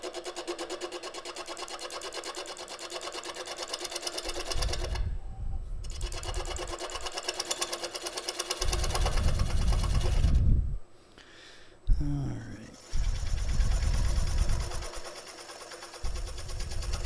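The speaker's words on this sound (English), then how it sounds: "the spindle speed on the lathe is slow" A wood lathe turning bent-branch bud vases at a slow spindle speed, under 600, gives a continuous close whir, with brief drops and gaps as it is slowed or stopped.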